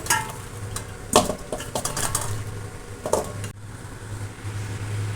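Cut bitter gourd pieces are stirred and scraped in an iron pan, with irregular clanks and scrapes, then a quieter stretch of low sizzling.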